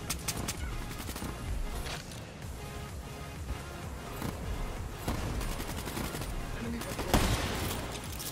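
Rapid bursts of automatic gunfire in Black Ops 3 online multiplayer, dense and continuous across the whole stretch with sharper single shots cutting through, loud and close in the game mix.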